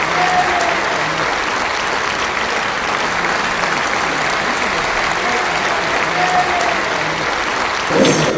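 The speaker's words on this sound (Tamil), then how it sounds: "முதலமைச்சர் யோகி ஆதித்யநாத்ஜி அவர்களுக்கு நீங்கள் அனைவரும் எழுந்து நின்று உங்களுடைய கரகோஷத்தை தர வேண்டும்" A large crowd at an inauguration ceremony for a new Kashi choultry gives a standing ovation, clapping steadily and continuously, a dense, sustained wash of applause from start to finish.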